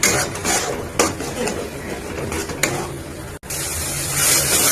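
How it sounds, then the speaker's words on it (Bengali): A spoon scrapes and stirs chana masala spices with sour yogurt in a pan over the flame, with steady scraping strokes, a few sharper knocks against the pan, and a low sizzle throughout. "ভালো করে কষিয়ে নিচ্ছি এবার টক দইটা দিয়ে।"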